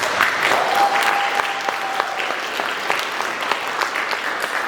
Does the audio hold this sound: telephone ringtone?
no